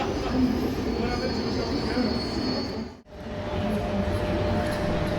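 A train rumbles through Antwerp railway station with a continuous rolling roar and faint metallic squeal. It briefly drops out to near silence midway, then resumes at the same level, with indistinct voices mixed into the din.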